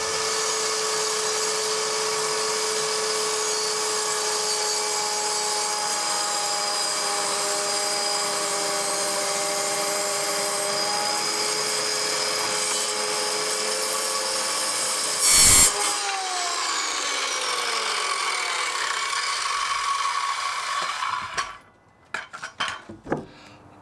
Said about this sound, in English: I'm just going to make a plunge cut to get in here